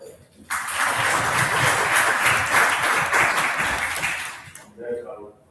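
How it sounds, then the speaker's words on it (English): An audience at a virtual cancer awareness oncology talk breaks into sustained applause, many hands clapping steadily for several seconds before it fades and a voice briefly speaks. "Please, a round of applause."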